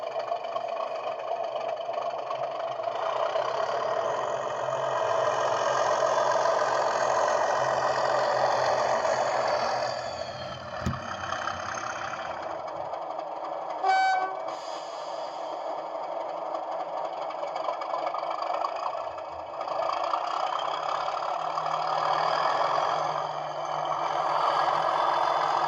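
Class 37 diesel locomotive 37027 idles with a steady, droning engine rumble, holding a mostly constant level with a brief dip and shift in tone partway through.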